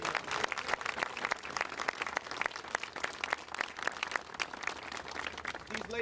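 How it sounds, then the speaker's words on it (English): An audience at a veterans memorial square dedication ceremony in Lawrence applauds, a steady stream of many hands clapping throughout, heard from a moderate distance. "Let's give them a big hand of applause."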